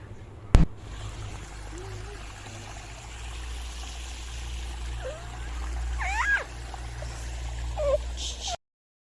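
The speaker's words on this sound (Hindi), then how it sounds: "जहाँ पे पानी की आवाज़ बहुत ही मज़ेदार आ रही थी" Water flows gently in the Sunder Nursery garden in Delhi, a soft, continuous trickle heard at low level, with a brief knock near the start and faint chirps over it.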